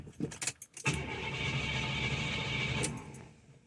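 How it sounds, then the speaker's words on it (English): A 1977 Cadillac Eldorado starter cranks the engine on a cold start after a week of sitting, a steady grinding whir lasting about two seconds after a few brief clicks and rattles, then cutting off. "here's a cold start after about a week of sitting"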